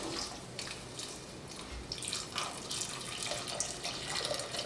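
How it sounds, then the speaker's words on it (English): A quart of broth poured into a soup pot for coconut vegetable soup, a steady close liquid stream with gurgles and splashes throughout, no talk. "I'm adding a quart of broth."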